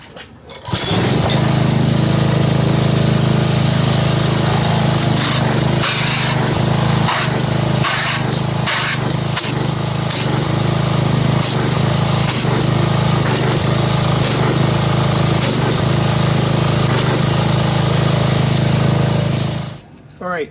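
A pressure washer roars steadily and loudly up close while it agitates Adams Wash and Wax car soap into foam. The motor drone runs unbroken for about twenty seconds, with faint spray and splash texture on top.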